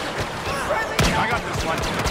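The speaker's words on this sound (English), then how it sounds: "Like blaster fire?" Blaster fire from the video game Star Wars Battlefront in a Skirmish match, a dense clatter of quick shots and zaps with one sharper blast, under game noise.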